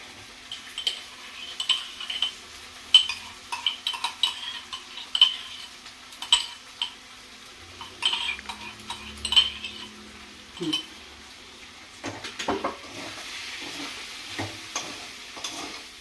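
Grated boiled egg, yolk included, sizzles as it fries in a pan, with a spatula scraping and clinking against the metal in uneven bursts over a steady close frying hiss.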